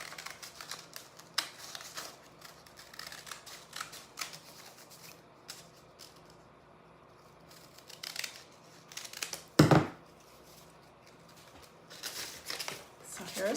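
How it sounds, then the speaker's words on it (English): Scissors snip through brown craft paper to cut out fall leaf shapes for a banner: a run of crisp, close cuts and paper rustles, with a voice heard faintly in places. "And I'm going to cut the center one first."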